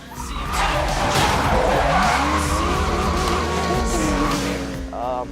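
A Porsche 918 Concept in Need for Speed Most Wanted races with a loud, close engine roar and sustained tire squeal as it skids through a turn, its revs shifting in pitch.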